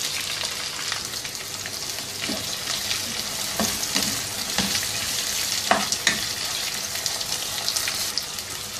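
Sliced onions and whole green chillies sizzle steadily in a hot pan, a dense close hiss with occasional stirring clatters and light knocks, with no talking.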